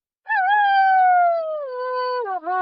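A single long, loud howl on a dark prairie rises, holds, then slowly falls before breaking into a short wavering end, clear and alone against silence; it could be a wolf or a voice imitating one.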